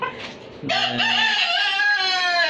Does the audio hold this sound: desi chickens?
yes